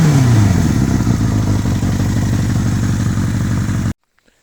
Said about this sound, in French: c'est un 4 cylindres hein, donc c'est un bruit typique de 4 cylindres des années 90